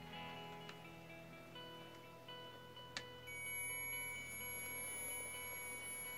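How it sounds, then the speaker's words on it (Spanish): A steady tonal beep hums from a closed magnetic switch circuit, faint and continuous throughout, with one brief click partway through. "El pitido es porque ahorita el interruptor se encuentra cerrado."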